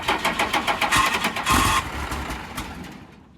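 An engine cranks over a few rhythmic turns, then catches and fires into a rough running burst before fading, heard close and fairly loud with no talking.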